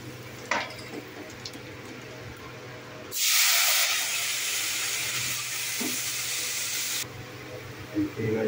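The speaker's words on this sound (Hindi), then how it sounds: "अब मैं कृष्णा का कंपनी का तड़का दूँगा" Cumin seeds hit hot oil in a pan for tadka tempering, giving a sudden loud sizzling hiss that holds steady for about four seconds, then drops to a quieter background.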